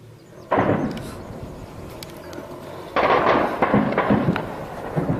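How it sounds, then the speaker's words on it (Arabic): Shelling on Qal'at al-Husn near Homs, heard as a series of heavy booming blasts with rumbling echoes, one striking impact and then a longer run of overlapping detonations, loud against the outdoor background. "قصف على المدينة من منطقة عناز"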